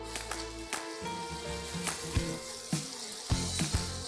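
Ginger-garlic paste sautéing with browned onions in a pan for Malvani misal, a close, steady sizzle broken by a handful of sharp utensil knocks and clinks against the pan.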